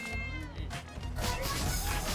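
Cats meow in the Darkest Dungeon 2 video game, a cluster of loud, overlapping wails and caterwauls crowding together over a couple of seconds, with a voice briefly mixed in.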